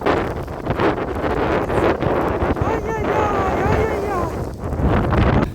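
Strong storm wind batters a microphone on the Odesa seafront near Sobachka beach on a January day with rain and snow, a constant loud roaring buffet throughout, with a voice briefly heard underneath.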